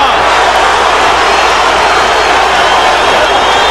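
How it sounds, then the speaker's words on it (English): Boxing arena crowd at the Zab Judah vs Cory Spinks rematch roaring steadily for Spinks, a dense, loud, continuous wall of cheering and shouting with no breaks. "The crowd urging Spinks on."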